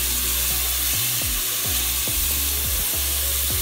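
Garlic hitting hot oil in a pot, giving a loud, steady sizzle and crackle of frying with a low, periodic whirring hum underneath.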